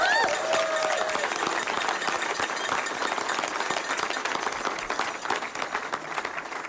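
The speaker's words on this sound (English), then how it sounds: "they deserve a round of applause" A crowd gives a round of applause at a political event in Waukesha County, Wisconsin, steady clapping throughout with brief voice-like tones at the start.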